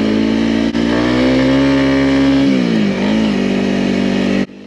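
A Honda CRF300L motorcycle engine hums steadily at close range, pitch rising slightly then dipping as it eases off before cutting out, with no talk.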